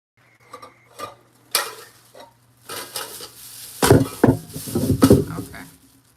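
Food stirred in a pan in a home kitchen, with a spoon scraping and clinking against the metal in bursts, loudest in a run of scrapes toward the end, over a faint steady hum.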